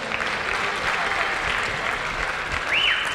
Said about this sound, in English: Give these couples a round of applause right now.